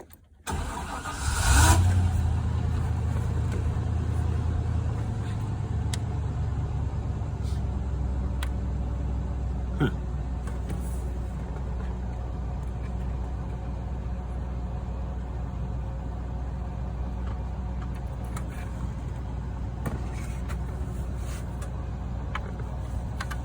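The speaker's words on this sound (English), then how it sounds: "Let's crank the truck." An old abandoned truck's engine cranks briefly, catches with a loud start, then settles into a steady rumbling idle with occasional small revs and clicks.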